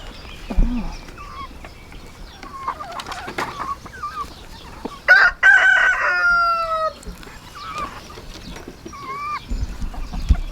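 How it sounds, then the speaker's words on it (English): Chickens cluck in short bursts while a rooster crows loudly and nearby partway through, with scattered bird calls around it. "We really need to move these birds."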